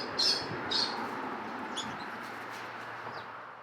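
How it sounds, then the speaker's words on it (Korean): Young parrots at a parrot breeder's home in Goesan, Korea, give two clear, sharp chirps early on, followed by a few fainter calls over a steady room hiss. "기욱 씨는 앵무새를 기르고 분양하는 브리더입니다."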